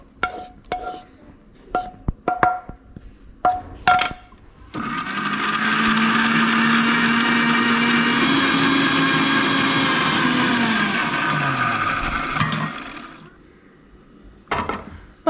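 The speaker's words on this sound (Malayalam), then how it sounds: "ഇനി നമുക്കിതൊരു മിക്സിയുടെ ചെറിയ ജാറിലേക്ക് ഇട്ടിട്ട് നന്നായിട്ടൊരു പേസ്റ്റായിട്ട് നമുക്ക് അരച്ചെടുക്കാം." A small mixer grinder jar whirs loudly and steadily for several seconds, grinding tomato and dried chilli into a paste for momo chutney, its motor pitch wavering before spinning down, with clinks and handling sounds on either side.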